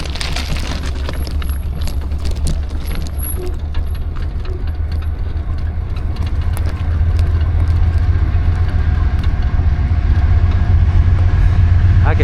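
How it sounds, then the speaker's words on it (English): A train rumbles past at close range at Glen Alum, West Virginia, a heavy low roar with metallic rattling and clanking that grows steadily louder. "Train a coming."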